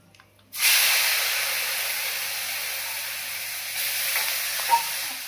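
Onion dropped into very hot oil, with dried red chilli already in it, set off a sudden loud, steady sizzle that keeps hissing close by with little change.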